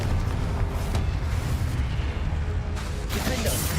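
Confringo spell blasts in the Hogwarts Legacy video game, heavy booming impacts over a continuous rumbling battle din, loud and close, with a sharper burst near the end.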